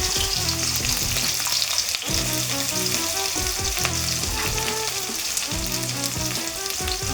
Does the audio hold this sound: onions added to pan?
yes